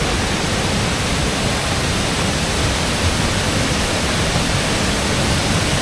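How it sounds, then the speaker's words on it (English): Detian waterfall on the China–Vietnam border, a powerful, dense, unbroken roar of falling water filling the scene at steady high volume. "You hear the powerful sound of the, flowing water."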